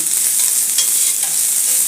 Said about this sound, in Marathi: आता हा कांदा मी याच्यावरती व्यवस्थित भाजून घेते